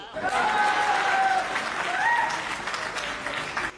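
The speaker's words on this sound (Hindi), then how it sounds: "और आप लोगों को तालियां बजानी ही होगी" Audience applause at a Hindi poetry recital, a full burst of clapping from a crowd with a voice faintly carrying over it, holding steady for a few seconds before cutting off.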